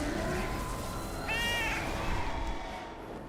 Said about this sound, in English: But that was somebody getting on the cat mount.